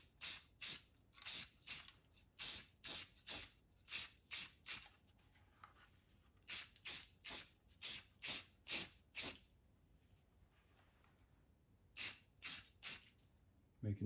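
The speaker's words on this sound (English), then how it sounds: "I'm using a gray primer to go over the sealer coats and give us a good foundation for the painting" Short bursts of aerosol spray as gray primer goes over sealer coats on a carved wigeon drake hunting decoy, the hissing blasts coming in quick rhythmic runs with brief pauses between groups, close and fairly loud.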